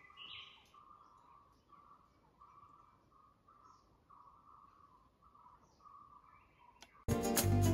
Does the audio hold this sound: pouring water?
no